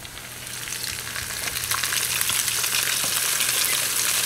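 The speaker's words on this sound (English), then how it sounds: "the only way that I know to cook that roe is frying it" Crappie roe fries in a pan with a steady, dense sizzle that swells slightly and holds, close and alone with no talk.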